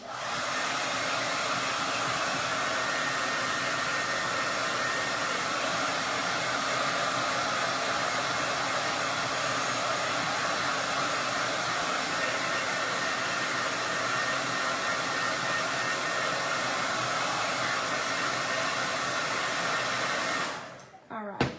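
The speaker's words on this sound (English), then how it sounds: "we're going to hit that one more time with the blow dryer" A blow dryer roars with a steady, loud rushing hiss for about twenty seconds, then shuts off abruptly.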